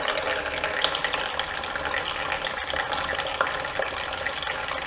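Water drains steadily out of a swamped Polaris Prowler side-by-side, a constant close splashing trickle with small gurgles, moderately loud and without talking.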